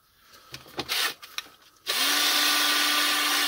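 A few brief clicks and rattles, then a 12V battery drill powered by a car battery starts up and whirs steadily at high speed, loud and close.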